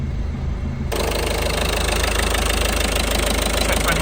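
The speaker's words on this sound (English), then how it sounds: "Don't be surprised to get hunting idle for a while after replacing the fuel filter, but if it's running" A Ford Fiesta 1.6 TDCi diesel engine idles steadily and loudly after a fuel filter change, a continuous close-up mechanical clatter with no talk over it.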